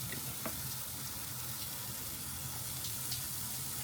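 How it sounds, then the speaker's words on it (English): Big oxtails searing over the hot side of a smoker grill give a dense, steady sizzle with faint crackles and pops, close up and continuous with no talking. "Y'all hear that sear?"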